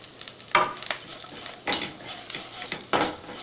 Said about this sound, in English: we're going to go ahead and add in our turmeric powder